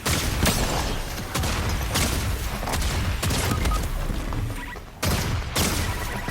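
Rapid gunfire in the video game Fortnite, bursts of dense shots and impacts crowding together, then a brief lull before more firing resumes near the end.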